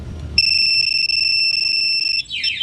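A Raider FI motorcycle's anti-theft alarm switches on abruptly with a loud, steady high electronic tone held for about two seconds, then breaks into quick warbling chirps, sounding close and alone.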